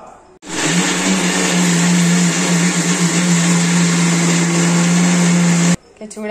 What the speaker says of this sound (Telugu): ఇప్పుడు దీనిని మిక్సీ చేసుకుందాం